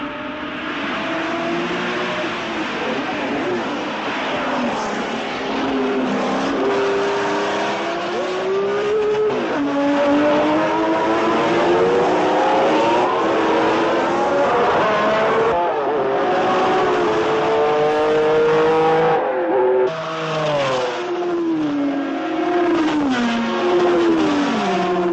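Race cars driven at real racing speed in a film scene, engines screaming and revving with rising and falling pitch as they pass and shift gears, loud and continuous with occasional tire squeal.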